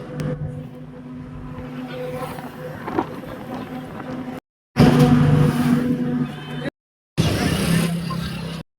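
Constant engine rumble and road roar inside a moving bus, loud and close, with people talking over it and two brief dropouts of total silence.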